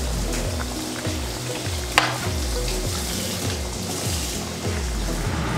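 Steady loud sizzling and crackling of food frying in a pan, with a repeated rhythmic scraping pulse underneath and one sharp clink.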